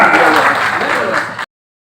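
A crowd at a Darbhanga tribute event for Maharana Pratap applauds to welcome Sagar Singh, steady dense clapping for about a second and a half before it cuts off abruptly, with voices mixed into the noise.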